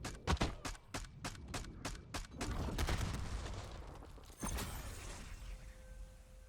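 Rapid bursts of XM4 rifle fire in a video game, a quick rhythmic string of sharp close shots that stops, then a single later crack followed by quieter game ambience.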